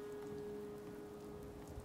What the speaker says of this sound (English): Oh no, yeah, it's raining for sure.